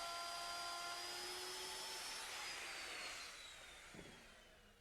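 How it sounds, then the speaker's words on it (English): A high-pitched router with a 1-inch roundover bit whines steadily while cutting wood, its tone slowly fading and winding down near the end, with a light knock. "To do this, I'm using a 1-inch diameter roundover bit"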